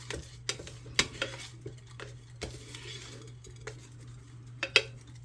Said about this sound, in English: we're going to want to give that a stir